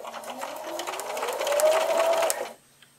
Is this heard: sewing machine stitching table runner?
yes